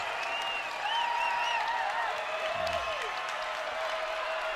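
Basketball arena crowd at a men's college game rising into sustained cheering and applause, a broad steady roar over a commentator's voice.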